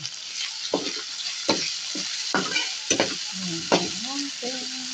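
Corned beef with potatoes fries in oil in a pan, a steady close sizzle broken by repeated scraping stirs and clacks of a utensil.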